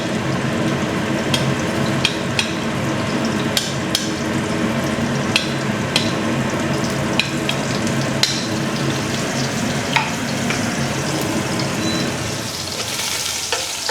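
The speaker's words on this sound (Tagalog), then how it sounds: "lagay na natin ang ating bawang." Garlic sautéing in hot oil for a dried-fish pasta sauce, a loud, close, continuous sizzle with frequent sharp crackles and pops and some scraping stirring, no talking.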